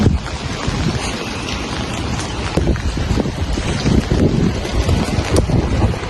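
Strong wind buffets the microphone outdoors in Baku's Old City, a steady loud roar with gusty swells over six seconds, no voices heard.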